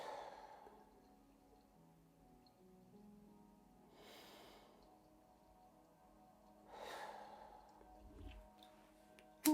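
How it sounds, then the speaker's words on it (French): Three slow, deep breaths in and out, soft and close, spaced a few seconds apart over near silence, ending with a faint click. "on va prendre 3 grandes respirations"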